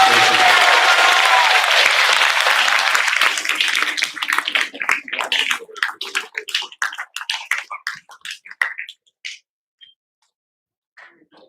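A school awards assembly audience applauds presidential award recipients, the clapping dense and loud at first, then thinning into scattered individual claps before fading to near silence.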